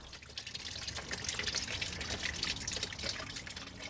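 Washer fluid draining out of a Volkswagen windshield washer reservoir, a faint steady trickle and patter of liquid running continuously, close by and with no voices.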